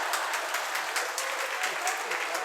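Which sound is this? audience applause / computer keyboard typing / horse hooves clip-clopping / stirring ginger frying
audience applause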